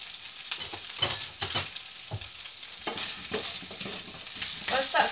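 Chicken frying in a pan gives a steady, bright sizzle, close and fairly loud, broken by scrapes and clatters as the pieces are stirred and moved.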